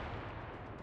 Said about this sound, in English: I'm going to go ahead and engage him. Use my rear guns.